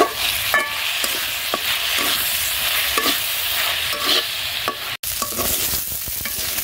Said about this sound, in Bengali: এখন চুলাটা কমিয়ে রেখে আস্তে আস্তে ভাজতে থাকি এইভাবে।